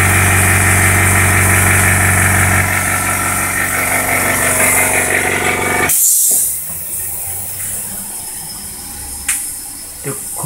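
An air compressor in a home workshop runs loud and steady, blowing air through the air line with a hissing, engine-like drone that cuts off abruptly, leaving a quieter hum with a few small clicks.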